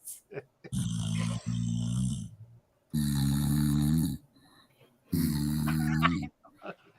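Three long, rasping snores in a slow, steady rhythm, loud and close, each lasting over a second with brief silences between.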